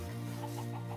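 A brief burst of clucking chickens in Minecraft over a steady tonal background, rhythmic and soft, with no one speaking.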